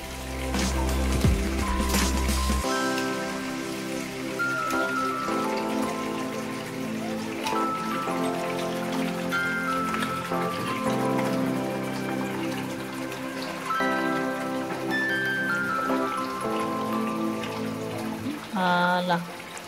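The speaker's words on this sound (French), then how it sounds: "je vais très bien rincer ma viande comme ceci" Pork meat is rinsed in water, with running and splashing water under a steady wash of background sound and occasional clinks, continuous and moderately loud for the whole stretch.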